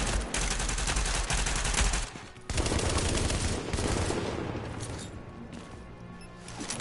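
Sustained, loud video game gunfire from a firefight with rogue agents in The Division, rapid automatic bursts overlapping with explosive booms, briefly dipping around two seconds before resuming dense and continuous.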